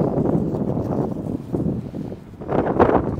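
Gusty outdoor wind buffets the microphone in rumbling surges, fading briefly near the middle before a strong gust returns, during an iguana-catching outing by screened patios.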